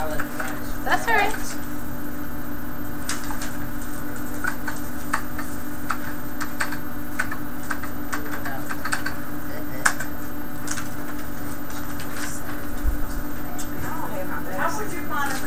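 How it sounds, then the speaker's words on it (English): Scattered clicks of computer keyboards being typed on in a classroom, irregular and fairly close, under a steady hum while people talk in the room. "We're just typing it in."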